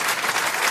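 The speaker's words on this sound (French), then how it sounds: "Sabine, on vous applaudit." Studio audience applause on a French comedy panel show, a dense, loud burst of many hands clapping that fills the short moment with steady, close intensity.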